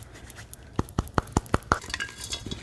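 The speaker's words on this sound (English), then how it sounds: "So we got that all good and mixed" Damp potting soil mixed with perlite gives a run of about six evenly spaced gritty scrapes and clinks, then looser rustling, close and fairly quiet with no talking.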